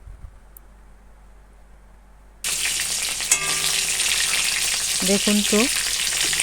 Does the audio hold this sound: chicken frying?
yes